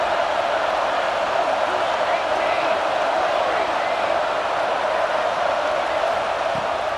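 A stadium crowd in the College Football 26 video game roars at full volume in a steady, unbroken wall of noise from start to finish.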